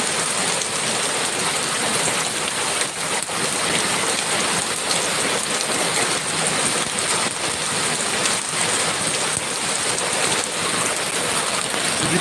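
Steady rain pours outside, a dense, close hiss of drops hitting surfaces that keeps going without a break, with no talking heard.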